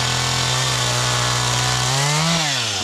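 Chainsaw running in a winter stand of dead standing trees, its engine a loud, close, continuous drone with a steady pitch that rises and bends near the end as the revs change under load.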